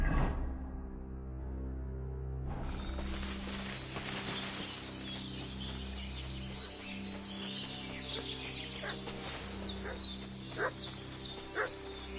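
A dog barking in Kingdom Come 2, with repeated yips and barks of varying loudness over a low sustained musical drone, louder toward the end, with no talking.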